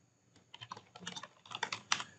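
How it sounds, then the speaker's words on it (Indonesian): Typing on a computer keyboard, a quick run of irregular key clicks that starts sparse and grows busier, close and moderately loud with no talking. "Nah, tinggal kita ketik kode produk."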